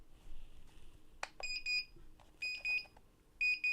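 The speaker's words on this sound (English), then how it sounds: "Sounds like a 80s alarm clock." Repeated electronic beeping from a PC during a test of a Gamemax V4 ARGB and PWM 9-port fan hub, shrill like an 80s alarm clock, sounding in short bursts at a steady rhythm over a faint background hum.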